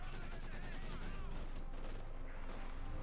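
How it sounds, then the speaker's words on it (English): Heavy machine gun fire crackles through a Company of Heroes 2 battle in dense, rapid bursts amid distant explosions and combat noise, with a voice talking over the action. "Bit of skirmishing, heavy machine gun fire there."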